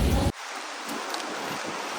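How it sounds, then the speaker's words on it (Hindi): Heavy rain pours outside in Oslo, Norway, making a dense, steady hiss close by after a brief louder rush at the start, with no talking. "बहुत तेज़ बारिश हो रही है"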